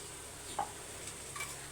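A quarter cup of rice dry-roasting in a pan after dry ginger and cardamom, giving a few faint, sparse scrapes and light rustles against a quiet background.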